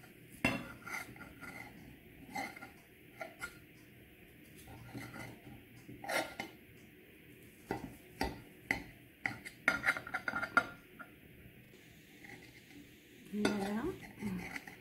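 A soft, powdered-sugar-dusted cake is sliced and served, with a knife and server clinking sharply against a plate and dish in scattered, irregular taps and scrapes, close by.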